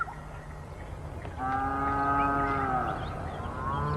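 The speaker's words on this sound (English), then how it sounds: "The cattle had arrived at the waterhole in Ted Riley's reserve." Nguni cattle lowing at a waterhole: a long, drawn-out moo that rises and holds, then a second call follows, carried over steady outdoor background noise at moderate distance.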